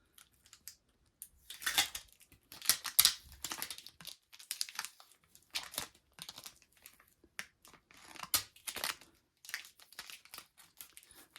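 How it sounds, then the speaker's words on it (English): Clear tape peeled off a ski's top sheet during a repair, giving soft, intermittent crinkling and tearing bursts up close, quiet overall with pauses between pulls. "we'll go ahead and peel off these pieces of clear tape"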